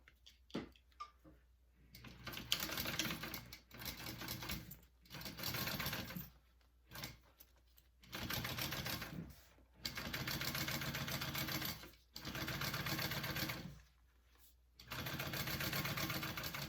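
Sewing machine topstitching a fabric wristlet: about six bursts of fast, steady mechanical whirring, each a couple of seconds long and separated by short pauses, close and clear with no talk.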